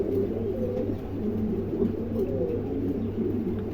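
Adult pigeons, a pair newly for sale with tags on their legs, are cooing; low, soft, repeated throaty coos, steady and close, with no talk over them.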